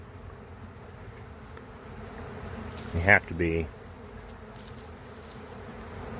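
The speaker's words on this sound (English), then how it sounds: "I'm seeing tons of bees over here" A honey bee swarm in progress outdoors fills the air with a steady, dense buzz, and a person speaks briefly midway over it.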